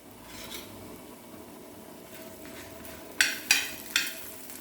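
Coriander seeds and pepper dry-roasting in a pan on a gas stove for a Kannada-style masala, a steady soft rasp broken near the end by three sharp scraping strokes of a spatula.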